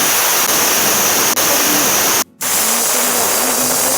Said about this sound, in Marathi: पाणी जे घेतलं होतं गरम करून ते टाकूया